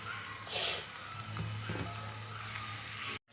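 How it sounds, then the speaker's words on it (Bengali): Potatoes and poppy-seed spice paste fry in a pan for Bengali aloo dum, a steady close sizzle with a brief louder hiss of stirring near the start and faint utensil taps. "আলু দিয়ে কষে নিচ্ছি।"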